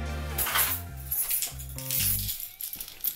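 Apartment and mail keys on a ring jingle and clink close by, a few bright metallic rattles in short bursts with small pauses between them, no talking.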